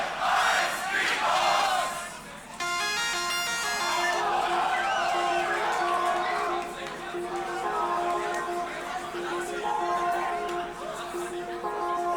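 Crowd at the German Beatbox Championship loop quarterfinal cheering and shouting loudly, with a sustained roar layered over looped musical tones, swelling early and staying dense throughout.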